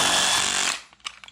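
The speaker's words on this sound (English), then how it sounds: "we can use our drill to help get our bolt through" Power drill driving a bolt through a kayak trolling motor mount, a loud continuous whirring grind up close that cuts off after about three quarters of a second, followed by a few faint knocks and rattles.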